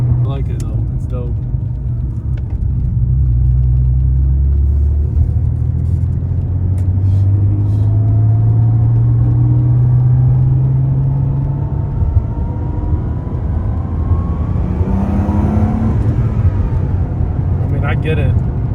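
A wrecked 1992 Porsche 964 Turbo drives past with a deep engine rumble rising and falling through gear changes, road noise steady throughout, with a person talking over it.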